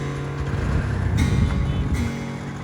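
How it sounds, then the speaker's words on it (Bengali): A passenger speedboat approaches along a tidal channel leading toward the Bay of Bengal, a steady low engine rumble with wind and water noise that swells slightly midway. "একটা স্পিডবোট আসতে দেখতেছি আমরা"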